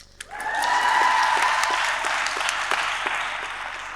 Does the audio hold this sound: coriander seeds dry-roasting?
no